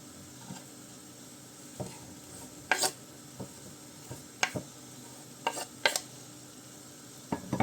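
Cooking in a frying pan with occasional stirring: soft scraping and utensil knocks come in scattered bursts over a faint background sizzle, with no one talking.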